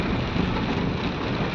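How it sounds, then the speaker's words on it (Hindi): Heavy rain pours down steadily, a dense, loud, close hiss and patter that stays unbroken from start to finish with no voices. "बारिश और तेज हो गई।"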